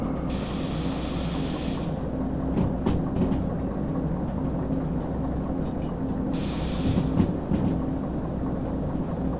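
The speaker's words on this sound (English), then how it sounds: "you might just let the train coast down because you're probably not going to derail" Steady low rumble of a train coasting downhill in the Derail Valley train game, with a continuous drone, a few soft clanks, and two bursts of hissing spray near the start and end.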